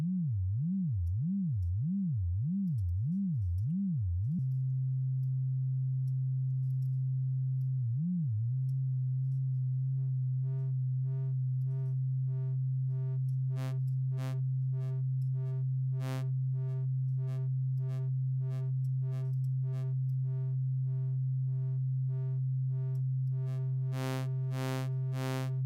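A Reaktor synth tone swept by an LFO wobbles up and down in a smooth, steady low pitch, then settles into a held drone as a bright pulsing sequence of higher tones joins in, alone without any voice.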